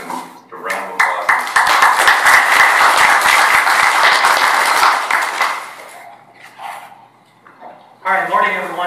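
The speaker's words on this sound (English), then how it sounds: "just a round of applause" A crowd applauds loudly for about five seconds, a dense clatter of many hands that fades out before a voice begins speaking.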